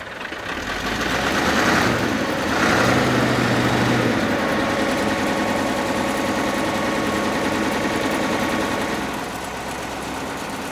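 A vintage tractor with a turbo 640 Perkins diesel engine, fitted with big flotation tyres, runs steadily at close range, its loud continuous engine clatter and drone holding for about ten seconds with no talk.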